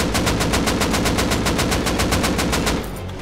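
Rapid automatic gunfire in the survival game Rust, a steady loud burst of evenly spaced shots lasting nearly three seconds before cutting off, leaving a low rumble of background noise.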